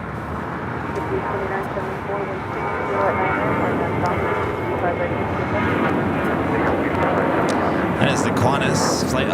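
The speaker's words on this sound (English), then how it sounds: "That is the Qantas Flight 11 A380 Super" A Qantas Airbus A380 at LAX produces a loud, sustained jet engine roar that rises a little partway through and stays dense throughout, with faint voices in the background.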